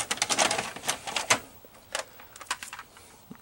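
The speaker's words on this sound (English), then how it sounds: "So now let's insert the tape in the two VCRs." Two VCRs, a Samsung and a Panasonic, loading VHS tapes: close, faint mechanical clicks, clunks and whirring as the cassettes are drawn in, in irregular bursts with no talk.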